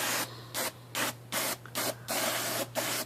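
Degreaser with 5% oil sprayed from an aerosol can onto the bottom frame of an IBM Selectric typewriter, six or seven short hissing bursts in an uneven rhythm, close and clear over a steady low hum.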